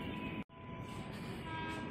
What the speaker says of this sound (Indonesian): Nah, ini dia nih, bakal masuk lagi ke komuter lain tujuan Jakarta Kota.